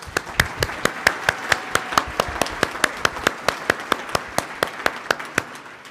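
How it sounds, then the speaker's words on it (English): Sharp, evenly spaced claps ring out at a community awards ceremony, a quick steady rhythm of single loud strikes that reads more like one or a few people clapping than a full crowd. "So one last giant round of applause,"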